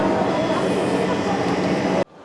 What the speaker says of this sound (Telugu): ఈ ట్రైన్స్ కూడా మ్యాటర్హార్న్ ట్రైన్స్ అంటారు